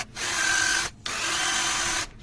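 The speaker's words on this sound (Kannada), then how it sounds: "ಇವಾಗ ಡ್ರಿಲ್ ಮಾಡೋಣ ರೌಂಡಾಗಿ ಕಟ್ ಮಾಡೋಕ್ಕೆ" A power drill bores holes in a ring to cut out a homemade toy tractor trailer wheel. It whines loudly and close up in two sustained bursts with a short pause between them.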